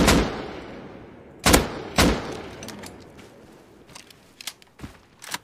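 Gunfire in the survival game Rust: a loud sharp shot at the start, two more heavy shots in quick succession, then a scatter of fainter distant pops and cracks.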